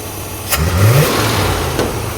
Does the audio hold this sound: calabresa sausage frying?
no